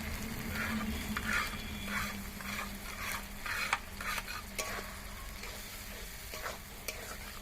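Spice paste mixed with water fries in oil alongside onion, ginger and garlic in a home kitchen. It gives a moderate, hissing sizzle, broken by frequent spatula scrapes and clinks as it is stirred.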